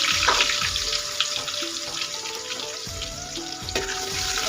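Chopped onion dropped into hot oil with mustard seeds and cumin, a bright continuous sizzle with crackles and scraping stirs, close and fairly loud, no talking.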